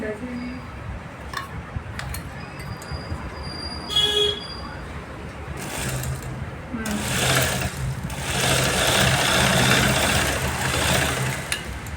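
A sewing machine stitching tucks on a back-open blouse, its mechanical whir rising and running steadily in the second half, close, after a quieter stretch of handling noises.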